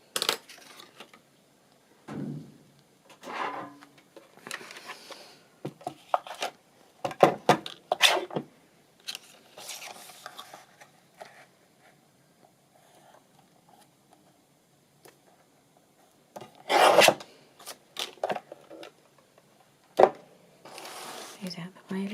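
Scrapbook paper is trimmed to size, with scattered sharp cutting clicks and paper rustles coming in short bursts and then a quieter stretch, while a person talks softly in between.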